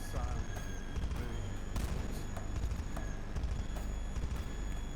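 Sharp, crackling snare hits punch through a dense, bass-heavy music mix, each strike cracking like a gunshot at irregular intervals.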